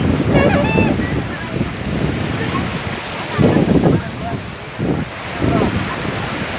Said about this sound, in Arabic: البحر ده كويس يا لولو؟